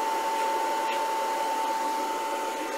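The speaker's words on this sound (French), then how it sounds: "dès qu'on met en route, le ventilateur se déclenche" The cooling fan of an induction heater used to heat steel, copper and aluminium runs as a steady, close airy whoosh with a faint constant hum, unbroken for a few seconds and with no speech.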